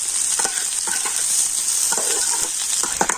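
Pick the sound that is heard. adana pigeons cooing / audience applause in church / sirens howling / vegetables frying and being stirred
vegetables frying and being stirred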